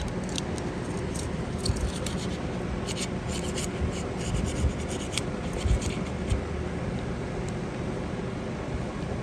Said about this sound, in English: we'll do the same thing with the small hole that's inside. With that, we can get away with using a welding tip cleaner